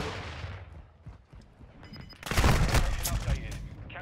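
KASTOV 74U submachine gun from Modern Warfare 2 bursting in loud, dense gunfire about midway through, after a quieter stretch of muffled game noise, with talking present.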